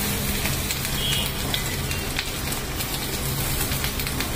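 Grated fresh coconut sautéing in a hot pan for a Malvani-style crab curry, a steady dense sizzle and crackle throughout with no talk over it.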